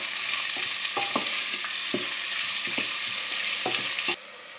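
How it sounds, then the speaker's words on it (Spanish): Onion and garlic with a pinch of salt sauté in a pan, a dense steady sizzle close up, punctuated by a few soft clicks and scrapes of stirring, with no voices. "lo voy a rehogar todo junto aproximadamente unos 4 minutitos"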